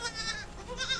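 A goat bleats close by in a rural herding setting: a wavering, nasal call that runs for about a second and swells at each end.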